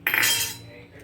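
A utensil clinks and scrapes against a bowl while flour and eggs are mixed together, a short bright metallic clatter that fades within a second.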